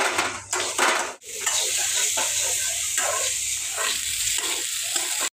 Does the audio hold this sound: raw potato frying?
yes